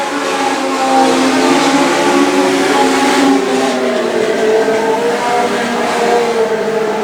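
Legend Cars race down the back straight of an oval track, several engines droning and revving together in a loud, continuous roar with shifting pitch as the pack passes.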